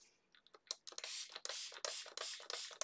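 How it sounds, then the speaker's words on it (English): Water spritzed from a spray bottle onto a stamped card background in a papercraft session, a string of quiet hissing pumps that start short and grow into longer, rapid bursts, heard close up. "as soon as I spray this with water, you'll see the background colour instantly change"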